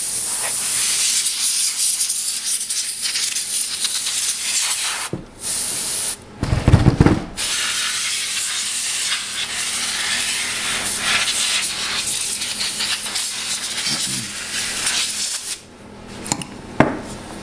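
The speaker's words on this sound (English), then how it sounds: "So just spray it out a little bit." Aerosol spray hissing steadily over an amplifier circuit board during repair, a long continuous blast broken by a few short pauses and brief bursts, close and loud with no talk.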